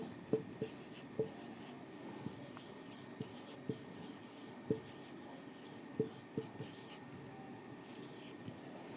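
Equations being written on a board during a physics lesson on turning effect and equilibrium, faint intermittent taps and strokes of the marker or chalk, quiet and close with soft room hum.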